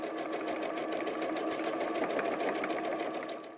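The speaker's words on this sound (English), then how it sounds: "I'm going to sew completely all the way around using a 1/4 inch seam allowance" Sewing machine stitching fabric all the way around a quilted whale softie with a quarter-inch seam, a steady fast mechanical whir with even stitch ticks, close and continuous, no talking.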